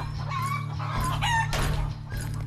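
Farm chickens cluck and crow in short broken calls over a steady low background hum, with no talking.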